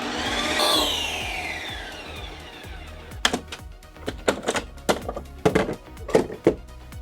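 A Ninja Creami machine spins a frozen pint of light ice cream, with a rising whine at first, then a run of sharp, irregular thunks and knocks as the blade churns, close and fairly loud.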